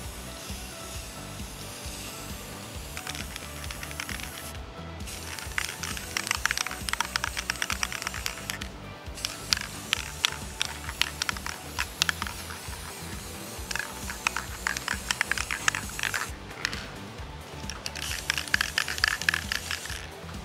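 Krylon Fusion All-in-One matte black primer being spray painted onto a wooden outdoor sign, a steady hiss broken by short pauses and rapid spattering clicks.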